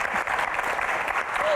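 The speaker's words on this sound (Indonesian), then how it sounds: "Oke, tepuk tangan." An audience at an Indonesian comedy talk show bursts into dense, continuous applause that stays steady and fairly close for the whole short burst.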